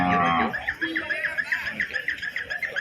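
Cattle low repeatedly in a busy bull market in Pebbair, their calls rising over a steady crowd murmur and loud nearby talk at the start.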